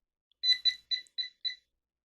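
A handheld voltage tester detecting power gives five quick, high-pitched beeps in an even rhythm, close and clear against silence.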